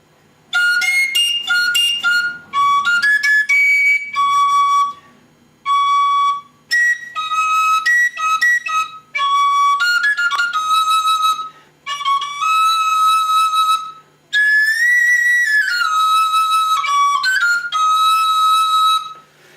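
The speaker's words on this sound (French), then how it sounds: "il va falloir l'accorder cette flûte." Pure, whistle-like tones from an organ flute pipe being tuned sound in short bursts separated by silences, the pitch stepping and sliding up and down as the notes are adjusted.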